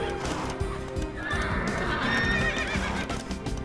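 Horses neigh and whinny with clip-clopping hooves in the real-time strategy game Age of Empires II: Definitive Edition, loud and dense over game music and battle clutter, with a long whinny rising midway.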